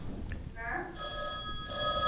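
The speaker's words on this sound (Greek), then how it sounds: "πρώτα βγάλετε τη γραμμή και μετά χτυπάτε το τηλέφωνο" A telephone rings in a TV studio, sounding in two bright electronic trills close to the microphone, with a brief tone before them and low chatter underneath.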